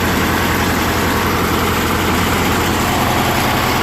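A Murray riding mower with a 16 hp Briggs & Stratton opposed-twin engine runs at a steady idle, a loud, continuous low rumble with even pulsing close by and no speech.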